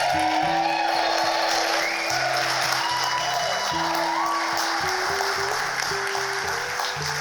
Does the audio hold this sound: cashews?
no